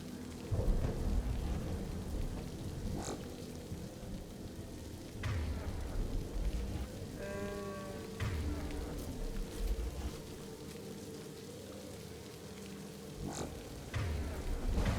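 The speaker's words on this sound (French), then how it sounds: "Il pleut, il mouille, c'est la fête à la grenouille." Rain falls steadily in a Mass Effect 2 game scene, with low rumbles of thunder rolling in the background and a few sharper cracks, all at fairly low volume.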